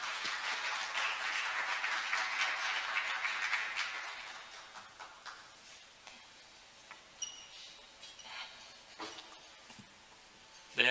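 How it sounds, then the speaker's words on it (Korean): An audience at a patent court conference gives dense, sustained clapping to welcome a session chair. It fades after about four seconds into a quiet hall with a few scattered clicks. "큰 박수로 환영해 주시기 바랍니다"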